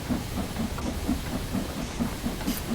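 A Class 8F steam locomotive in the Train Sim World game, running between Widnes and Speke Junction, gives off a steady, rhythmic chuff of exhaust beats over a constant hiss, moderately quiet and alone.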